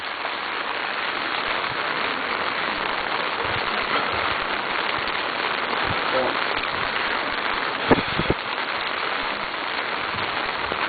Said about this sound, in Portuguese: Há quanto tempo não tem uma chuva dessa aqui? Chovendo direto aqui